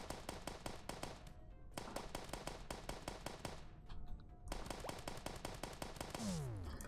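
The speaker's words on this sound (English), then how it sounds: "Let's shoot that one." Rapid gunfire from shooting an enemy in Starbound, a fast run of sharp, evenly spaced shots broken by brief pauses, fairly quiet overall and ending with a descending tonal sweep.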